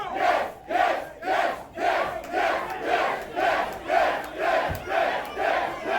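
Wrestling crowd in Knoxville at an NWA JCP tag team championship show, chanting in a steady rhythmic pattern of loud, repeated bursts roughly every half second, a full arena voice with no announcer heard.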